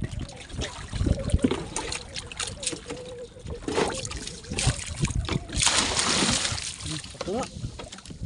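Water splashes and trickles around a boat during a fishing outing, irregular close sloshes and splatters with people talking over them.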